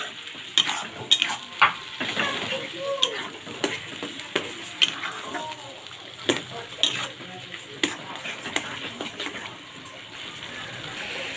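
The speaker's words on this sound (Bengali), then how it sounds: "ফুটছে একটু ঘন ঘন নাড়তে হবে না হলে কড়াই লেগে যেতে পারে" Fish curry of loitta (Bombay duck) bubbling in a wok while a spoon stirs it, with irregular scraping knocks and wet splashing over a steady simmer close by, the fish breaking apart in the thick gravy.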